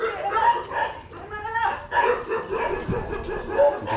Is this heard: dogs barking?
yes